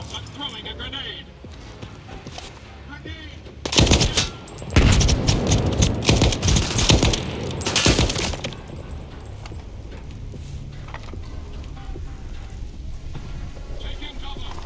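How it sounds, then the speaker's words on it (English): A grenade explosion in the STALKER 2 video game, a sudden loud broadband blast with a rumbling, crackling aftermath lasting several seconds, preceded and followed by quieter game ambience and speech. "Brothers, I'm throwing a grenade."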